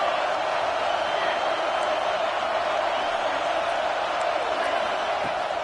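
A video game football stadium crowd keeps up a steady, dense roar with a defense pinning its opponent deep in their own end. The crowd noise stays continuous and fairly loud throughout, with no clear peaks.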